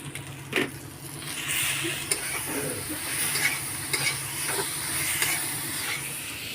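Lentils sautéed in a pan with Kashmiri chilli paste and spices: steady sizzling hiss with repeated spoon scrapes and light taps against the pan, close and moderately loud, continuous throughout with no talking.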